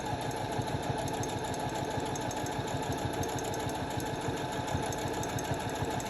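A sewing machine stitching a rolled hem on fabric, running continuously with a fast, even mechanical chatter and hum throughout, fairly close and unaccompanied by speech.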